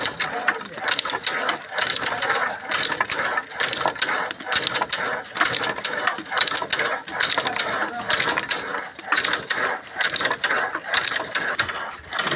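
A hand-operated cashew nut shelling machine clanks and clatters in a steady repeating rhythm, its mechanical cracks and ratcheting clicks loud and close, with faint speech now and then.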